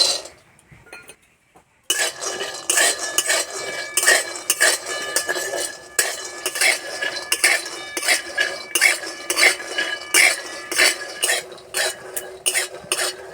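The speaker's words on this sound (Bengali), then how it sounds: "প্রথমে আমি এক বাটি বাদাম ভেজে নেব।" A bowl of peanuts dry-roasting in a pan, stirred steadily so the nuts rattle and a utensil scrapes and clinks against the metal in a quick repeated rhythm, loud and close after a brief quiet start.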